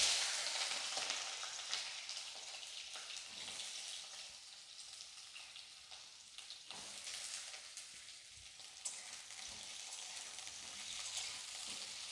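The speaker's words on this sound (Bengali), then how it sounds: "এবার যে আলুগুলো আছে আলুগুলো আমি এখন ভেজে নেব।" Potatoes fry in hot oil in a heated wok, giving a faint, steady hiss of sizzling with scattered soft crackles and no talking.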